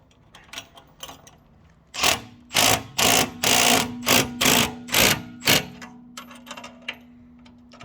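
A power tool tightens bolts and nuts while a motorcycle frame is assembled, giving a run of about eight short, loud, evenly spaced mechanical bursts with faint clicks and handling noises before and after.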